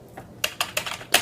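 Keys clack on a Sinclair QL keyboard, a short run of crisp, close taps in an uneven rhythm, with a faint tap at the start and louder presses near the end.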